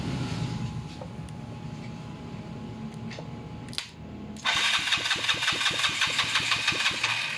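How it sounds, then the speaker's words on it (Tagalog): A motorcycle engine fitted with a transparent timing gear cover cranks and catches, then settles into a loud, close idle with a quick, steady pulsing beat after a few seconds of quieter workshop background. "Start mo na yung motor na yan."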